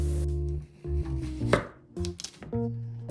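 Knife cuts through a washed cucumber on a cutting board, a few sharp, distinct chops landing over steady background music.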